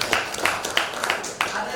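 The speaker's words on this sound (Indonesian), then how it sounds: "Ya, tepuk tangan buat Pratista." Classroom students giving a brief round of clapping, a handful of rhythmic claps with speech-like voices underneath, moderately quiet.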